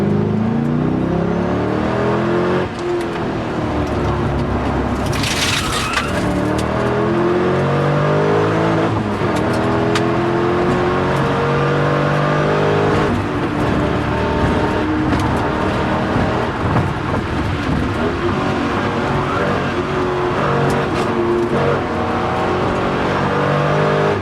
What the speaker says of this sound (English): watch as car 923 leaves a speed restriction zone and catches car 603